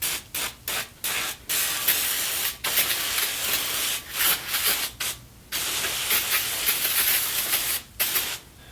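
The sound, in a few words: spraying PB Blaster penetrant onto cast iron table top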